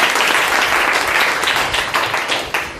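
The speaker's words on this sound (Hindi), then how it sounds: "तो मैं कहूँगा इसके लिए एक बार और तालियां बजाइए आप" Audience applause in a school gathering, a dense, steady roar of many hands clapping close by and loud throughout, with no voices over it.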